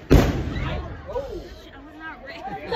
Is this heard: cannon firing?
yes